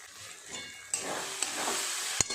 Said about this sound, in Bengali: খুব ভালো করে সমস্ত মশলাটা একটু কষিয়ে নেবে